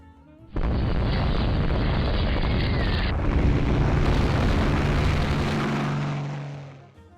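Torpedo strikes on warships in Rule the Waves 3 land as a loud, sustained explosive roar after a brief quiet start, with a rumbling, aircraft-like drone carrying on before fading out at the end.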